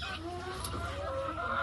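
Soft clucking from a rooster amid steady farmyard background noise, continuous and fairly close through the short stretch.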